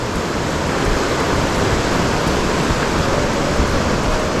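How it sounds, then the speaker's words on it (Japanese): Heavy rain pours steadily at a mountain stream during trout fishing, a dense, continuous broadband hiss and patter that fills the whole clip with no breaks and no voices. "いや、すごい雨。"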